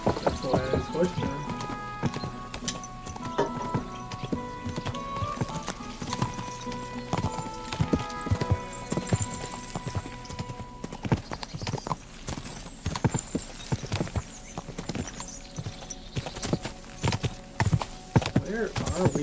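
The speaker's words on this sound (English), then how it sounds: "I'm absolutely stealing a horse from Horse Chan." Continuous rhythmic hoofbeats in Kingdom Come: Deliverance II clopping along for a long stretch, with a brief neigh in the mix and background music.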